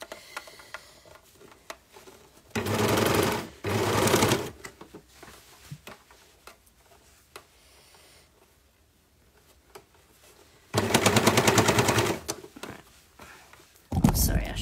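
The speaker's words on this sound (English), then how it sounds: "So now I'm going to start to sew." A sewing machine stitching a cuff runs in loud, fast bursts of rapid mechanical clatter, three separate runs with a shorter one at the end, and quiet pauses between them where faint speech is heard.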